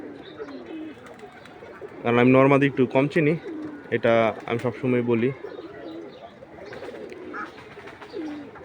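Pigeons basking in the sun coo softly and steadily in the background while someone talks loudly over them for much of the stretch.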